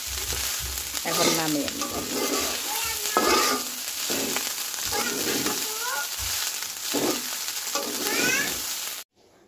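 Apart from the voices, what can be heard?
leftover rice being stir-fried in a pan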